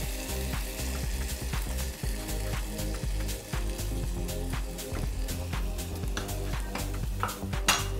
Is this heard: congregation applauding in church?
no